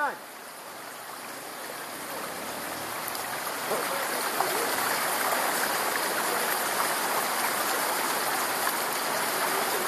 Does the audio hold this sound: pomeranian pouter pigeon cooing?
no